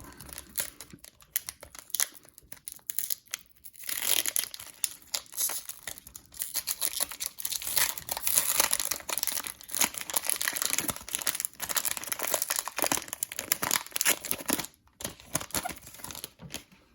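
A foil pack of Artifacts trading cards is torn open close up, with bursts of crinkling and ripping foil coming in irregular, scratchy runs separated by short pauses.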